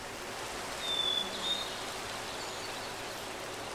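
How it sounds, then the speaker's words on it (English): Rain falling in Minecraft with the Mesabrook modpack, a steady soft wash of patter that holds evenly throughout, with a faint brief chirp near the start and no talking. "Got some rain."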